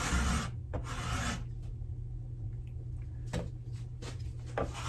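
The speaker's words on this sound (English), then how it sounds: "So I will continue to scrape this down" Scraping chemical stripper residue off a wooden table being refinished, a steady close rasping scrape with strong strokes at the start and a few more later, no talk.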